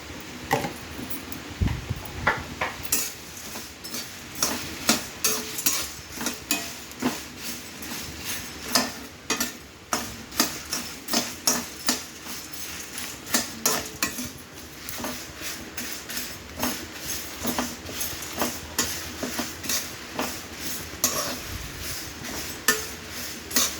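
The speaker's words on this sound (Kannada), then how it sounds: "ಈಗ ಮೆಣಸಿನ್ಕಾಯಿ ಹಾಕೋತಾ ಇದ್ದೀನಿ. ಅದನ್ನು ಇದಾಗೋವರೆಗೂ ಹುರಿಬೇಕು." Metal spoon scraping and clinking against a pan as chillies are stirred and roasted for homemade puliyogare gojju, a steady run of close, sharp taps and scrapes with no talking.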